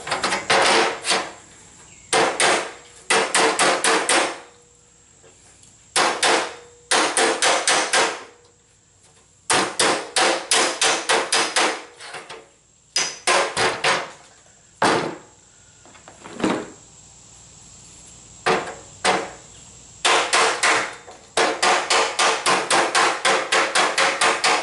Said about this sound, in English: Body hammers work really well.